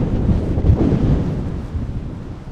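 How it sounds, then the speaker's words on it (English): Strong wind sweeps across a beach cemetery at night, buffeting the microphone with a loud, continuous rumbling roar that eases slightly toward the end. "Oh, man, this wind is crazy."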